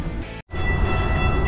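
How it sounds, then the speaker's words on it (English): Aboard an Amtrak passenger train during a four-hour ride, a loud, steady rumble and rushing noise fills the cabin, broken by one brief near-silent dropout, with no one speaking. "that was our 4-hour train ride"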